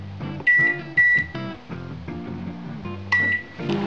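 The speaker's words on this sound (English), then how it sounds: "We put this in the microwave." A kitchen microwave oven works through a short sequence of beeps and clunky mechanical sounds, with sharp bright tones punctuating a low hum, close and fairly loud with no talking.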